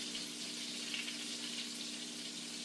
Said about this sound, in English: These onions are burning.